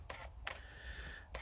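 A Canon EOS 5D Mark II DSLR shutter clicks sharply three times, close up, with quiet room hiss between the clicks.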